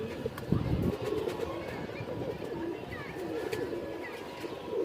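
A pet pigeon coos in a rooftop loft among other birds, giving soft, low repeated calls close by. Faint chirps and distant background murmur sit underneath.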